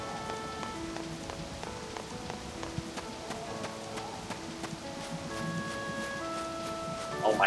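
Steady in-game rain patters across a farm scene in Harvest Moon Animal Parade, a continuous soft hiss with scattered drop ticks under background music tones, with no talk.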